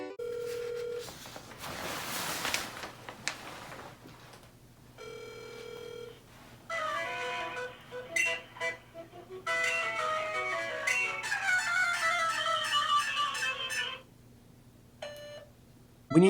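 A Pokémon-themed telephone voicemail greeting made with Google Voice: electronic beeps and ringing tones, then a bright chiptune-style game melody with steady synthetic notes, ending in a short beep.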